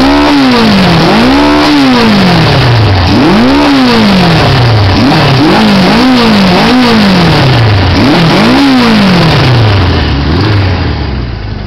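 A 1980 Suzuki GS550E motorcycle engine runs loud and close, revving repeatedly in rising and falling swells with a steady idle between throttle blips, and no talking.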